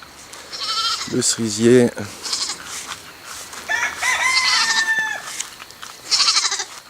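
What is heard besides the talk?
goat bleating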